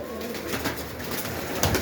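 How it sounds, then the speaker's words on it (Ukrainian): Young pigeons coo softly and repeatedly inside a pigeon loft, a close, steady low murmuring with occasional louder rustles and flutters toward the end. "Гарна голубеня від такі."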